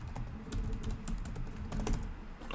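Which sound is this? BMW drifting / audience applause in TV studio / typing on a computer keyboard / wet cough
typing on a computer keyboard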